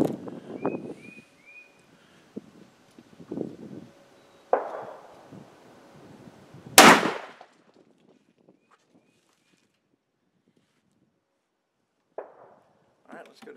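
A single loud, close blast from a Mossberg 935 shotgun loaded with a Remington Nitro 3.5 inch turkey load, fired outdoors at a 20-yard pattern-testing target through a Carlsons choke tube, with brief talk and rustling before it.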